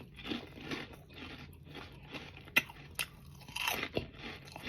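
Crunchy chicharon pork rinds from the Philippines being chewed close up, a steady run of crisp crunches and bites with a few sharper cracks, quiet and without talk.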